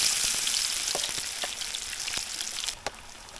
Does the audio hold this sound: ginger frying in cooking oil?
yes